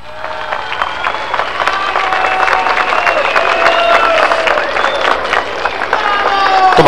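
Loud crowd applause at a rally in Sacaba, Cochabamba, welcoming Evo Morales, dense clapping building in intensity with a voice speaking over it through much of the stretch.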